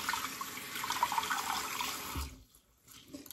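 Water running into a bathroom sink while a face is rinsed, a steady close splashing flow that stops abruptly, leaving a few faint drips and small noises.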